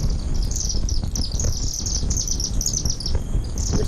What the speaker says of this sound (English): what you're seeing here is you're seeing chimney swifts roosting, so they're going to their nighttime roosting location in a chimney.